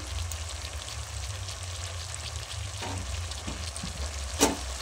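Catla fish head curry with turmeric and chili powder, pumpkin, potato and papaya sizzles steadily in a pan, a close continuous frying hiss with occasional scrape of a stirring spoon and one sharper clack near the end, no talk.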